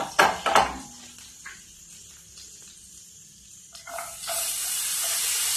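Cooking oil poured into a hot pan, giving a few clattering knocks at first, then a quiet stretch before a steady sizzling hiss builds and holds to the end.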